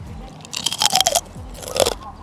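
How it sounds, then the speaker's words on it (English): Loud, close crunching of fried pork-skin chicharron bites being chewed, in two bursts of crackly bites, with no talking. "listen to the crunch"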